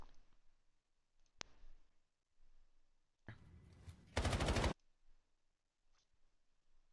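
Gunfire from a Call of Duty match in a CDL Major competitive recap: a single sharp shot early, then a dense burst of rapid automatic fire toward the end, with quieter game sounds between.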